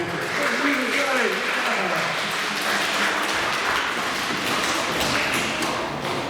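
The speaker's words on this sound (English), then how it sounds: "Give a round of applause." A group in a classroom claps in a thick, steady round of applause lasting several seconds, with voices and scattered thumps and taps mixed in throughout.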